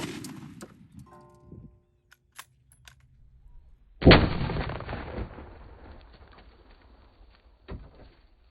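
A single sharp, loud 6.5 Creedmoor rifle shot fired outdoors into concrete patio stones, followed by a long rolling echo; faint birdsong and a few small knocks come before it, and a lighter thump follows later.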